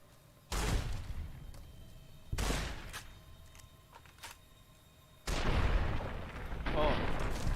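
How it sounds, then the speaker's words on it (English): Booming gunshots in Fallout: New Vegas, three heavy, widely spaced blasts, each with a rumbling tail, the last one longest and loudest, separated by quieter gaps. "I hear gunfire."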